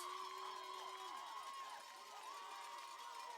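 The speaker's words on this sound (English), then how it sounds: "Big Red crowd is going nuts." A crowd cheers in the stands at a high school football game between Port Huron High and Birmingham Brother Rice, a faint, distant roar carrying under whistle-like tones and shouting.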